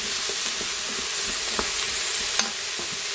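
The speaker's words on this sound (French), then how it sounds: "je laisse dorer un petit peu hein, la courgette, la carotte, pour qu'elles dégagent bien leurs arômes" Chopped courgette and carrot sizzling steadily as they brown in a hot pan, a close continuous bright hiss with occasional soft stirring clicks.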